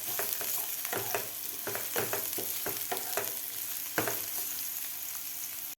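Finely chopped onion sizzles in a pan, a steady frying hiss broken by repeated scraping stirs from a spatula at a fairly even pace, close and moderately loud.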